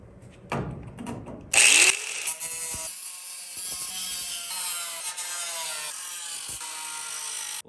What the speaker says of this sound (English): We'll take down the rest with the grinding wheel here, the flap disc